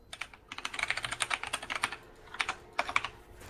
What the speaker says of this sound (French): Petit coup de clavier.